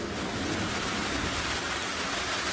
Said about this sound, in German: Oh, jetzt haben wir Gewitter.